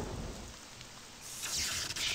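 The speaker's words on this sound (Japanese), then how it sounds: "雨降ってるから雷が落ちたってことだよね" Steady rain hisses in the horror game Kirisame ga Furu Mori, set in a drizzly forest. A louder surge of rain and low thunder swells midway and holds to the end.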